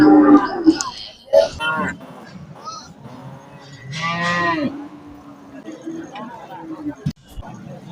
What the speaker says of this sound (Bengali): হলস্টিন ফিজিয়ান জাতের সার গরু